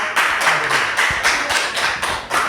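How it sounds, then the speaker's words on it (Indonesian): A classroom group claps together for a student group after their presentation, a steady, fairly loud run of brisk claps lasting a couple of seconds. "Tepuk tangan untuk kelompok."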